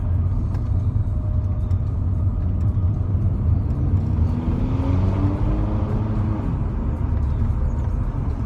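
A Mercedes AMG engine rumbles at idle after a throttle blip to about 2,000 revs, with a low steady drone and faint crackles and pops carrying through.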